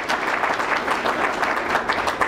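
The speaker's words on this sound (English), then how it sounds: "let's kind of give a quick round of applause for the inspiring teachers that we have here" An indoor audience applauds teachers at a celebration of a new blended learning facility, with dense, steady clapping from many hands filling the room for a couple of seconds without speech.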